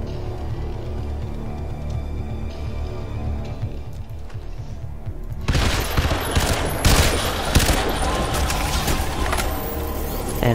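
Semi-automatic gunfire in the shooter Crysis 2: after quieter ambience, a burst of loud rapid shots breaks out and continues irregularly over a busy combat background, with no voices.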